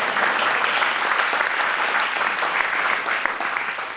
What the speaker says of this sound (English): Yeah, you could clap for that.